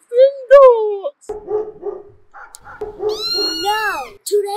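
Cartoon-style meows and dog barks and whimpers in a quick comic sequence, loud and close, several short calls, some sounding like a voice imitating the animals.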